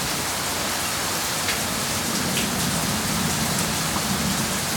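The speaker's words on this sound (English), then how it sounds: "so watch the rain" Heavy, flooding rain pours during a strong thunderstorm in central Oklahoma, a dense, even hiss of drops drumming on surfaces that holds steady throughout, with no talking.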